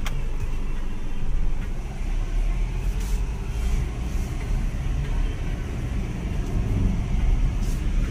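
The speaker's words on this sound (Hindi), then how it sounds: "अब इसकी टेस्ट ड्राइव भी लग के देख लेते हैं चलने में।" A car that has had its gear and clutch repaired drives on a test run, giving a steady low road rumble and engine drone throughout with no talking.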